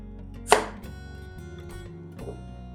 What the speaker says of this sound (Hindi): सबसे पहले स्लाइस कर लेते हैं प्याज को।